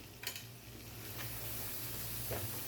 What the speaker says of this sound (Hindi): ये कटी हुई 3 से 4 जो हरी मिर्चें ये ऐड करेंगे और इसकी थोड़ी सी बुनाई करेंगे